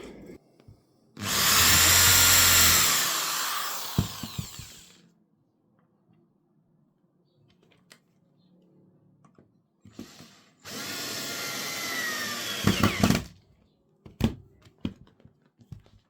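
A power drill driving screws into a campervan part whirs in two long bursts, each a few seconds, separated by quiet handling clicks and followed by a few sharp knocks.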